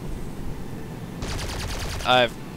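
A rapid burst of aircraft cannon fire in War Thunder, a quick rattling string of shots ending in a sharp ringing hit, heard fairly close.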